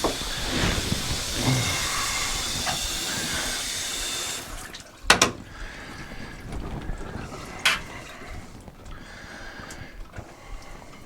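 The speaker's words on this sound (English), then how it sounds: "just going to get the water turned back on so I can give it a test" After a Moen Posi-Temp shower cartridge is replaced and the supply is turned back on, water rushes with a strong hiss for about four seconds, then cuts off. A few sharp knocks and clatters follow.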